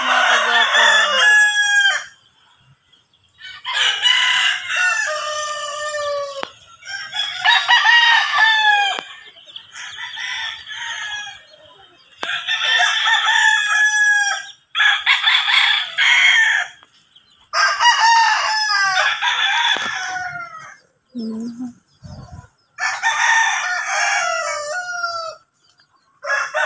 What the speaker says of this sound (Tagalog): Ayan, nagpapakain si ate ng manok.